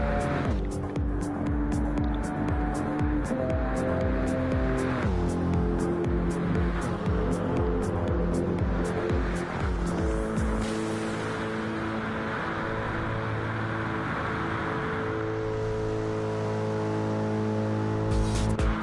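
A GT race car in a sim racing game drives a lap, its engine loud and close with rising and falling revs, sharp upshifts and downshifts, and brief lifts through corners.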